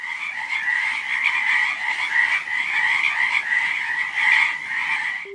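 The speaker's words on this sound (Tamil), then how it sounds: "தவளைகள் ரீங்காரம் பாடுறதை கேட்க வச்சிருக்காரு" A dense chorus of frogs croaking continuously, a steady pulsing drone of many calls at once, loud and close.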